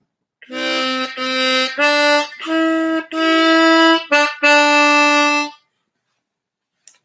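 A small harmonica-like wind instrument played by alternately blowing and breathing through its holes, giving a run of bright, reedy chords in separate bursts, close and loud, then stopping before a brief tap at the end.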